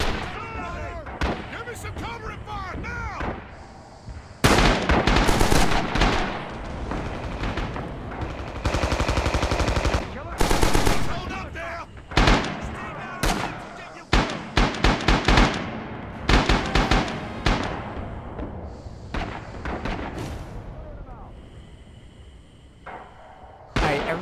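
Gunfire in the World War II shooter Red Orchestra 2, loud bursts of rifle and machine-gun fire with sharp cracks and rattling volleys, mixed with shouted voices and battlefield noise.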